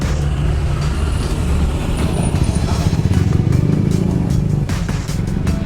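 A home-built Thai owner-type vehicle in Phuket, fitted with a Toyota steering wheel and a Jeep badge, runs its engine in a loud, steady, rumbling drone that fills the whole stretch close by.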